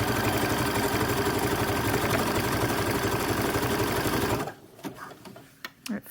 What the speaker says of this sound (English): it makes it a little bit easier to actually sew it.